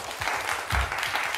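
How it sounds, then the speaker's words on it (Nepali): A studio audience at a Nepali television entertainment show claps in a short burst of brisk applause, with a brief swell midway, heard close and without talk. "फेरि पनि ताली।"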